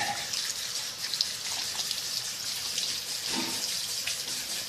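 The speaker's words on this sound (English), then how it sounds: "And then I rinse off his legs." Running water splashes steadily over a dog's legs during a bath, a continuous close hiss of spray with no talking.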